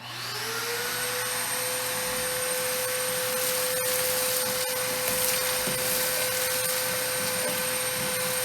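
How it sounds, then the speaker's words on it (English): A vacuum cleaner starts up and runs with a steady loud whining drone, close by, cleaning a rusty old Tri-Five Chevy, with occasional bumps and rattles as it moves. "maybe it'll look better if we vacuum it"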